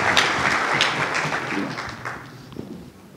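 Audience applause welcoming a speaker at a media-buying talk, dense clapping loudest at the start and gradually thinning out over about three seconds.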